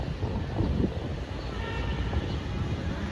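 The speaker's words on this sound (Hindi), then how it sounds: "आवाज़ आ रही है GMU की, वो सामने से आ चुकी है।" A GMU locomotive-hauled train pulling into a railway station near Malir, a low rumbling roar of wheels and engine, steady and moderately loud throughout, with no horn clearly standing out.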